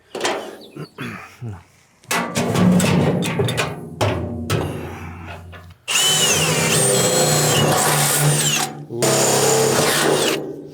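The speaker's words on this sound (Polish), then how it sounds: "Zaraz wiercę sobie otworki." A power drill bores holes through metal for a potato planter's chain part, loud whining bursts starting and stopping with short pauses between, close by.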